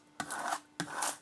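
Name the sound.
scraping transfer tape over vinyl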